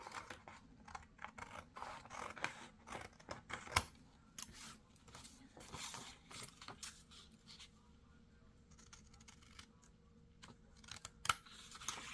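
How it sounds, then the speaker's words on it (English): Scissors snip through paper to cut out small triangles, a quiet, close series of irregular crisp cuts and rustling scrapes set against a near-silent room. "And I'm gonna cut down my little triangles."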